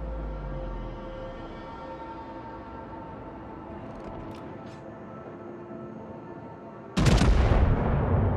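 The British Tier III battleship Bellerophon firing its guns in World of Warships: a long low steady drone, then a sudden loud, broadband blast near the end that booms and rolls on, heavy and close.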